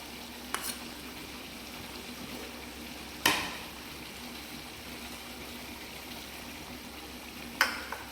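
Chicken frying in a pan with cashew paste, a low steady sizzle throughout with a few sharp clinks or scrapes of utensils against the pan, faint and close, with no talking.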